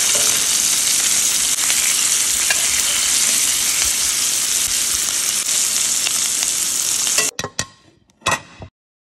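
Pork chops fry hard in a pan with butter, fresh thyme and garlic, a loud, close, unbroken sizzle that cuts off near the end into a few clanks and brief spits of fat, with no talking.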